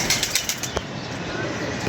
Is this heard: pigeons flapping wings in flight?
yes